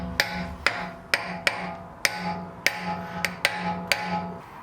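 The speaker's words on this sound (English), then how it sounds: "We have a tool that we made so that we could hammer out the axle nuts" Sharp metallic hammer strikes on a homemade tool, hammering out a rear axle nut on a BMW 325i E90, ring out one after another, about ten blows at an uneven, steady pace, close and clear.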